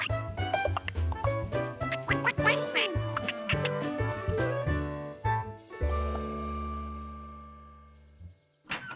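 Cartoon ducks quacking at a pond, with bright repeated quacks over busy animated music and sound effects, ending in a sustained tone.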